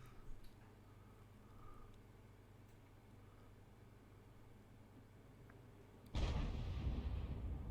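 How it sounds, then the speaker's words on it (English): An M40 self-propelled gun firing in a tank video game: one sudden heavy boom near the end breaks a quiet low rumble, and the roar holds loud for the rest of the clip. "the M40 just fired"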